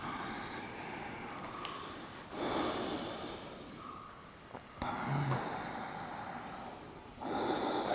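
Deep breaths drawn in during a standing yoga class's Utkatasana sequence: several long, rushing inhales and exhales, close and fairly loud, separated by quieter pauses, with no talking.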